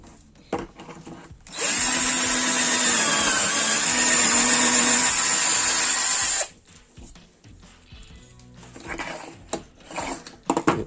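An electric drill bores a hole through a drilling guide, running steadily and loudly for about five seconds with a whining tone, then cuts off, leaving light handling noises and bumps.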